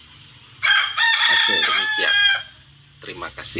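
Outside the room a rooster lets out one loud, drawn-out crow lasting nearly two seconds, followed by someone speaking briefly afterward.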